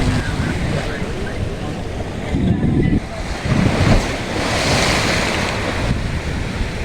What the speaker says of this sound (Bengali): দেখতে পাচ্ছ ঢেউটা কিরম আসছে